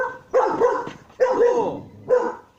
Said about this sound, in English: Why are we barking?